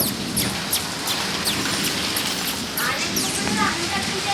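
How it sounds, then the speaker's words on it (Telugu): Heavy thunderstorm rain pours down in a steady, dense hiss that holds evenly throughout, with faint high chirps occasionally cutting through the wash. "చూడండి వర్షం పడుతుంది, ఎలా పడుతుందో."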